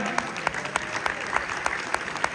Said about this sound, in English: Big round of applause for John Weissowitz